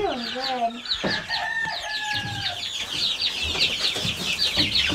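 Mosaic chickens and chicks cluck and chatter in rapid bursts close by, with a rooster-like crow and several birds calling over one another continuously.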